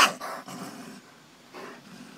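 A baby raccoon, brought in by a dog from near a compost bin, makes harsh chirping and growly squeals up close, loudest at the start and returning in short bursts, with no talking.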